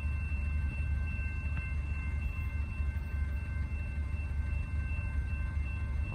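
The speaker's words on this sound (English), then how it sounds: "we got trains coming. Here is an eastbound CSX track main 2." Steady low rumble of a passing eastbound CSX train on main track 2 in Muncie, with continuous mechanical drone and faint high squeals, no breaks.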